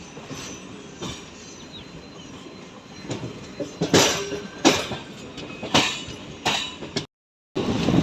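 Passenger train running on the Rajahmundry–Bhimavaram rail line, wheels rumbling steadily with repeated loud clanks and clicks over rail joints, heard from inside the carriage, ending after a brief dropout.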